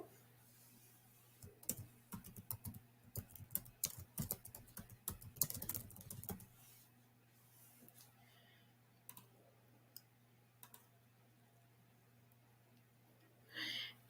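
Computer keyboard typing, a quick close run of light key clicks for several seconds, then sparse isolated clicks in a quiet room.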